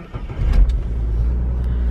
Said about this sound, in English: Let me start my car first.